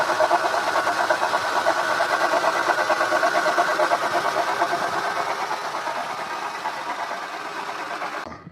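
An Acura TL engine idles with a noisy power steering pump, producing a steady, close, mid-pitched hum with a faint rhythmic whine that holds evenly, then fades slightly before cutting off at the end.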